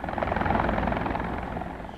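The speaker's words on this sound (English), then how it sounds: "his wife Celia Flores were then put on board a helicopter bound for Manhattan" Helicopter carrying passengers to Manhattan, a steady loud rotor thump and engine drone running throughout without pause.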